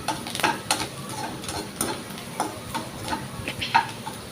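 Garlic and finely chopped curry leaves frying in a pan on a low flame, a soft steady sizzle broken by light scattered ticks and stirring scrapes, fairly quiet with no voices.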